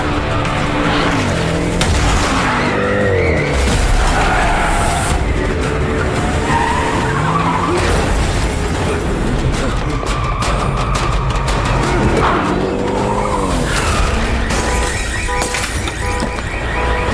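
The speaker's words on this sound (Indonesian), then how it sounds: "tiba-tiba ada sebuah mobil yang melaju dengan kencang dan berniat ingin membunuh Paman Ma" A speeding car in an action film races and skids, its tires squealing repeatedly over a loud, continuous engine roar that stays dense and close throughout.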